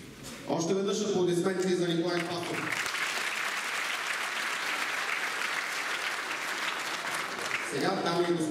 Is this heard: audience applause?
yes